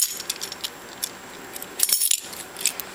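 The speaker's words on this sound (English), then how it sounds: "Let's get through a bunch of keys." A bunch of keys jangles in repeated bursts by a lock on a Husky 25 gallon mobile toolbox, bright metallic clinks coming close and clear in clusters over quiet background.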